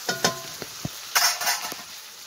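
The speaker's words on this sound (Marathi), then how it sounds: "आता मस्त परतून घ्यायचं हिरव्या मिरच्यानं कांदा ते।" Chopped onion and green chillies sauté in a pan, with a few scraping stirs and a short burst of sizzling, close and brief, no speech.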